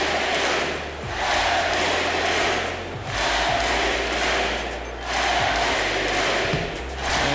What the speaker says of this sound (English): you can hear the crowd respond